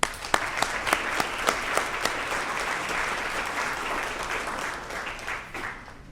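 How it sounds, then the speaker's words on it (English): Guests at a scout recognition dinner clap in a warm, steady round, a few sharp early claps leading into dense applause that fades toward the end. "please join me once more in a round of appreciation and applause for them"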